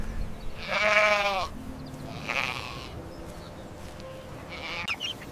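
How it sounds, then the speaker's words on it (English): A small black farm lamb bleats in three separate calls, the first loud and wavering, the next two shorter and fainter, with quiet gaps between and no talking. "This is a small black farm lamb."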